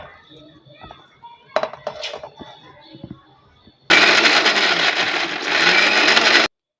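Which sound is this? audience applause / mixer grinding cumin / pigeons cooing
mixer grinding cumin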